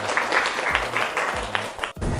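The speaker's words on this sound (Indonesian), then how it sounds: "beri tepuk tangan untuk Mutia." Students in an Indonesian classroom applaud a classmate during a lesson, a dense burst of clapping lasting about two seconds at moderate loudness, briefly cut off near the end, with low murmuring underneath.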